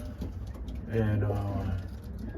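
Young racing pigeons coo softly in a loft, a low murmuring drone under a brief spoken word.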